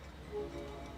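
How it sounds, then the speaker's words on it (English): A train passing by outdoors, a steady low rumble with rolling rail noise across a brief moment. "Look at that train go."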